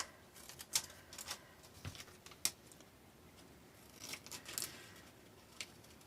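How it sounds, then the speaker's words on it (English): Paper scissors snip while cutting paper shapes for an appliqué block, making quiet, sparse clicks and short slicing strokes at irregular intervals, close by and with no voices. "I'm just using my paper scissors for this."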